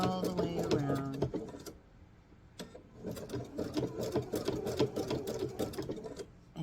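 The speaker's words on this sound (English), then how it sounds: "you're going to sew this all the way around." Sewing machine stitching around a coiled fabric bowl, a steady rapid mechanical whir that pauses briefly and then resumes, close and moderately loud, with no talking.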